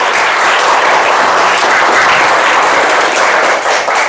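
Steady, dense applause from a room of students at a career guidance class, sustained and loud throughout with no talking over it.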